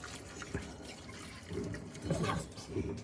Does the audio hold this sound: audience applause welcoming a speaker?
no